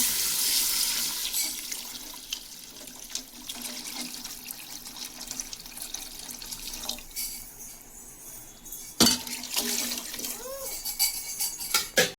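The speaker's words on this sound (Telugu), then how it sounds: "ఇప్పుడు కొబ్బరి పాలు వేసేయాలి" Coconut milk pouring and splashing into a pot for several seconds, followed by clattering and stirring against metal, with a voice speaking briefly.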